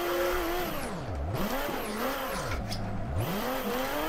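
A Nissan Skyline R32 drifting at Meihan Circuit in Assetto Corsa, engine revs sweeping up and down in swooping arcs over continuous tire squeal, loud and close throughout.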